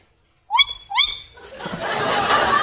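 A person gives two hooting whoops that mimic a tawny owl call, quickly followed by laughter and rising crowd noise.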